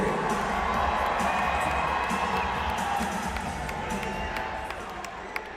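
Stadium crowd at an indoor football game between the Rapid City Marshals and Omaha Beef roars and cheers after a massive hit, a steady dense wash of voices with whoops, continuous throughout.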